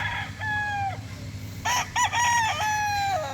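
A Boston Black gamecock stag crows several times in a row, close and loud, with a short cluck-like burst in the middle and a faint low background hum.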